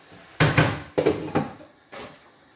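A lid set onto a pan of chicken stir fry with black bean and soya sauce, a few close metallic clanks and rattles in quick succession, with no talk.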